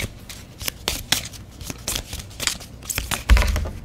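Tarot card deck being shuffled by hand: quick papery riffles and slaps in irregular bursts, close and crisp, with no talk over them.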